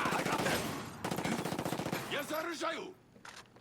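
Automatic gunfire in the video game Ghost Recon Breakpoint, a dense rapid burst that runs for a few seconds and then breaks off, loud and near, with game voices briefly audible near the end.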